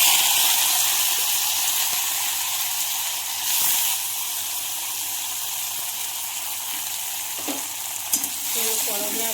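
Thick-cut bitter gourd fries in hot oil in a preheated wok, giving a loud, continuous sizzle with occasional stirring scrapes and no talk over it.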